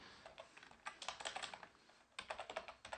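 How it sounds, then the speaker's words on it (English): Keys clack on a computer keyboard in quick bursts of typing, close and fairly soft, with a short pause near the middle before a second run of keystrokes. "just go ahead and just type this in"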